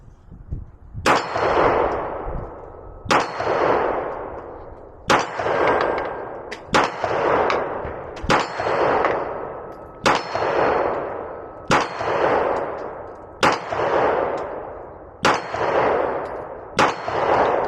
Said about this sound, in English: Now we're going to go Glock, and we're going to shoot just below that.